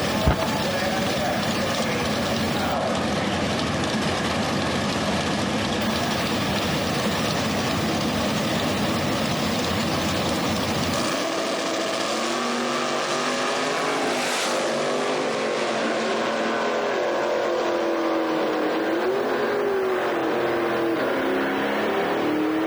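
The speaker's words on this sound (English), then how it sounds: "Sam Patrick out of Sandpoint, Michigan, 37 Chevrolet, takes on Jackson Messamore out of Hanson, Kentucky with the Camaro" Drag race at Beech Bend Raceway Park between a 1937 Chevrolet and a Camaro, loud engines roaring steadily, then the pitch shifts as the cars accelerate away, a continuous racing drone with a voice underneath.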